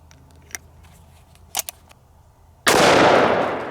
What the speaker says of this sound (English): We're gonna shoot it out of our snub nose and we're gonna see if we can bust up this concrete block